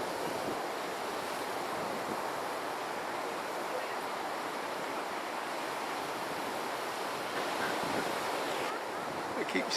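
Ocean waves and surf at a cape where the Indian and Atlantic Oceans meet, a steady broad wash of breaking water and wind, continuous and moderately loud from start to end.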